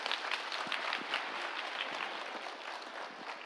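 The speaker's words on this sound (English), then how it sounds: "Let us give a big clap." Audience applause for musicians after a musical meditation session inside a pyramid, a soft, even patter of many hands clapping, faint and somewhat distant.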